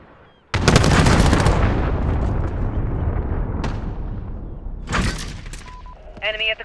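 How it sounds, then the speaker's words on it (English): A cruise missile strike in Call of Duty: Modern Warfare hits with a sudden loud blast, followed by a long rumbling roar that fades, then more sharp bangs and a brief radio-like voice at the end. "Allied cruise missile away."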